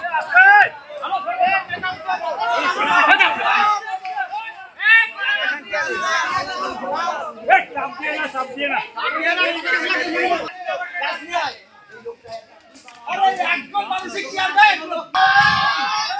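A large, dense crowd gathers on a riverbank in Bangladesh as an 82-cubit wooden boat is hauled into the river, with loud overlapping chatter, shouts and screams rising and falling close by throughout.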